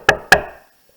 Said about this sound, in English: Mr. Sir knocked on the door.